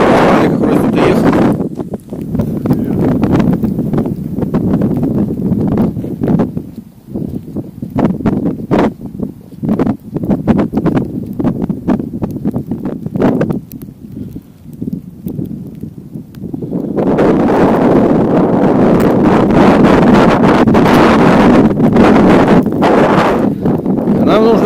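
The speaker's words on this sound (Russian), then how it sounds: "Блин, ветер, конечно, сильный. Боковой." Strong crosswind buffets the microphone in heavy rumbling gusts across an open field on a hike, easing in the middle and roaring back louder, with people talking intermittently beneath it.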